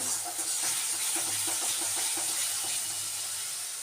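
Spice masala with yogurt frying on low heat in a pan for a home-style doi katla curry hisses steadily up close, broken by soft bubbling pops and light scraping while it is stirred.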